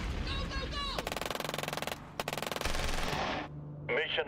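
Rapid machine-gun bursts in the strategy war game Shadow Empire, two long rattling volleys with brief pauses, mixed with other game sounds and a voice talking.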